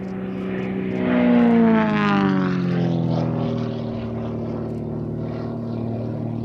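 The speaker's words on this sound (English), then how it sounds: "Mark Jeffries, multiple British aerobatic champion, with the extra 330SC" An Extra 330SC aerobatic plane with a 315-horsepower Lycoming engine performs an airshow display with smoke on, its loud propeller drone swelling as it passes close, then settling into a steady roar with shifting pitch.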